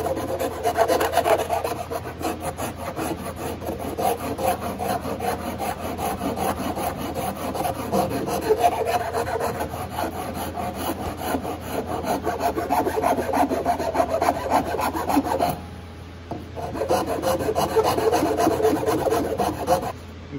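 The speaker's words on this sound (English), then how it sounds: "And we can carefully sand some of this." Sandpaper rubs rhythmically by hand over a wooden ukulele neck being shaped, a close, continuous raspy scrubbing that carries on with only a brief pause near the end.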